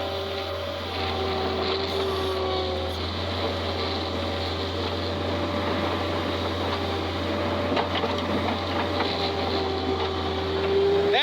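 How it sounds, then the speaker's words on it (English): A skid steer loader's engine drones steadily while cleaning out a barn, straining as the machine lifts a heavy load and its back end bobs off the ground; a continuous low, loud rumble with no speech. "I'm bobbing the back end of the skid steer off the ground"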